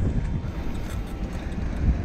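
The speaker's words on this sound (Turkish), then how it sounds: "Rüzgar çok ya." Strong wind buffets the microphone with a low, rumbling roar that swells and dips for a couple of seconds, with no talking.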